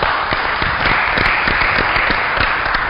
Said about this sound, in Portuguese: Vamos aplaudir o nosso embaixador da